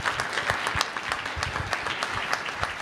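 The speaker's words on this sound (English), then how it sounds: "one more round of applause for all of our student groups" An audience at a university innovation challenge event applauds with steady, moderately distant clapping that carries on evenly throughout.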